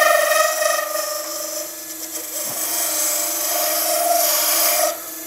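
A skew chisel cutting a spinning resin piece on a wood lathe gives a steady, whining hum with a raspy scraping edge. The sound holds close and even for several seconds before easing off at the end.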